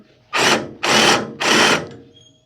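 A power drill chamfering a hole whirs in three short, loud bursts, each spinning up and then stopping, with brief pauses between.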